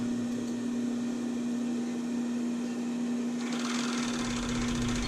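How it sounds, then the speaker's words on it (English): An overlock serger runs steadily while sewing seams on a tankini, a loud continuous mechanical whir with a constant motor hum, growing brighter and harsher toward the end. "And this one I'm doing with my overlock."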